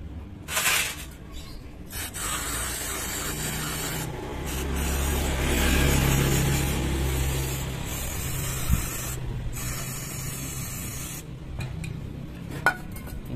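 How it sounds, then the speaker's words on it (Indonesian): Aerosol cleaner sprayed onto hand tools such as a T10 key, screwdriver and pliers, a close hissing spray in several long bursts with brief pauses and rubbing between, no voices. "Sini kita semprot dulu."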